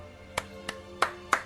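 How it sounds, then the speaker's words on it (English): Four slow, deliberate hand claps spaced evenly apart, each a sharp isolated crack close to the listener, with a faint musical tone lingering underneath. "The slow clap"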